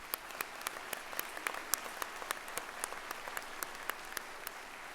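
Steady applause from a large audience, many hands clapping continuously at a moderate distance, with no talking over it.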